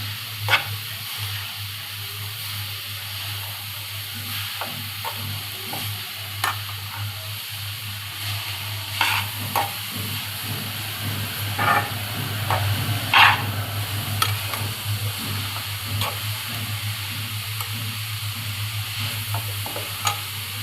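Grated carrot sizzles gently in ghee in a pan as it is stirred for halwa, a steady frying hiss broken by repeated scraping strokes of the spoon, with no talking.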